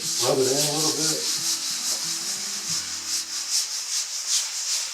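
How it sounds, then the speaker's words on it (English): Steady rubbing of a shop rag over a toned canvas, a continuous dry scrubbing hiss with soft repeated strokes, close and fairly loud, with some low bumps and handling early on and no talk. "take that and just kind of rub over it. Rub it in a little bit."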